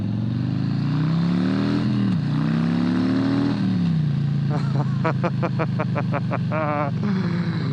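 A 2021 Harley-Davidson Low Rider S motorcycle with a 114 engine idles with a deep rumble, then blips the throttle in a quick series of sharp revs.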